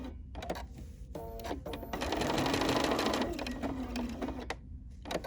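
A sewing machine stitches decorative appliqué onto a fabric postcard, its motor whirring in a steady run with ticking starts and stops around it, close and clear.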